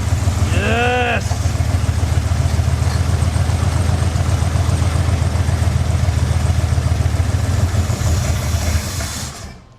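A Mercury Montclair engine, freshly revived after sitting frozen for 20 years, idles on six cylinders, close and loud, with a steady throbbing rumble. A rising tonal whine sounds briefly near the start.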